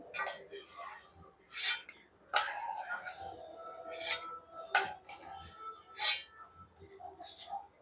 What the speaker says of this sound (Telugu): ఇలా ప్లేట్లో తీసేస్తున్నాను